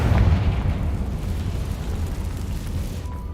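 A Confringo spell explosion in Hogwarts Legacy lands as a loud, deep boom and then fades into a rumbling roll that lasts about three seconds, with no voices over it.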